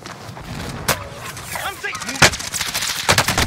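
Gunfire during a match of Iront Trials '84, with a few sharp, loud shots standing out over ongoing game noise and several voices talking.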